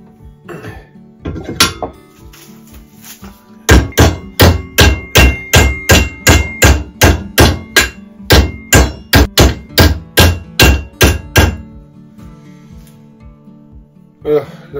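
Hammer blows straighten a bent iron piece clamped in a vise while making a planing stop, about twenty loud, evenly spaced metallic strikes in a steady rhythm after a few scattered taps, close and with no talk.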